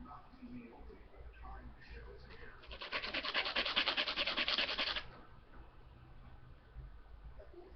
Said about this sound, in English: So make sure it's flat on the sandpaper.